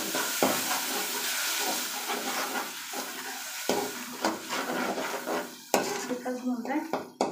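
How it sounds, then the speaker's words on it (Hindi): Masala frying in a pan while a spoon stirs it: soft continuous sizzle broken by repeated scrapes and clinks of metal against the pan, close and moderately quiet, no talking. "मसाला, देखिए हमारा भून रहा है"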